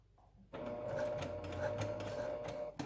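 A sewing machine stitches in the nose piece of a fitted face mask, a steady continuous motor whir with needle chatter running close and loud for over two seconds after a quiet start.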